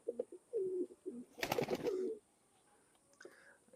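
A Khulna Chot pigeon coos in a few soft, low, rolling phrases close to the microphone, with a brief rustle midway and quiet pauses between calls.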